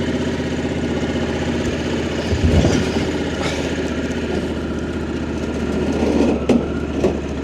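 A motorcycle engine idles steadily with a low, continuous rumble and faint mechanical ticking, swelling slightly a couple of times.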